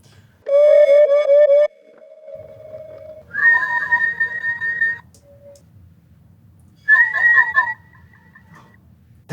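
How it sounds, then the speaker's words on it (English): A voice yelled into a harp and glitched into a bird-like call gives three separate bursts: whistly, warbling chirps with sliding pitch, separated by quieter gaps, loud and close. "Why don't you try yelling into the harp?"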